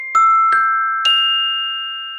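Three struck chime tones from a sampled instrument ring out in quick succession, each bright attack followed by long sustained ringing that decays slowly, heard alone.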